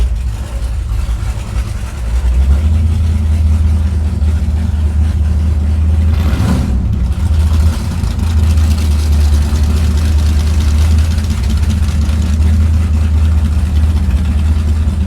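A 1962 Dodge Dart's 413 Max Wedge V8 idles with a deep, rough, loud exhaust rumble, steady and close, with a brief sharp blip partway through.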